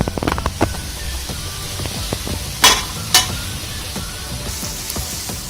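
Onions frying in a pan until soft, a constant close sizzle broken by a few sharp spatula scrapes and stirring knocks.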